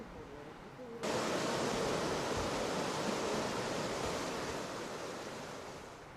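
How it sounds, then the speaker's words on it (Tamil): Heavy rushing water from newly formed waterfalls on the Coonoor hill road after heavy rain, a loud, steady broadband roar that starts abruptly after a brief moment of a faint voice and holds close and constant. "அண்மையில் பெய்த கனமழையினால் குன்னூர் மலைப்பாதையில் புதிதாக அருவிகள் உருவாகியுள்ளன"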